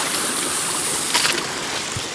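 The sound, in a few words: canyon creek water flowing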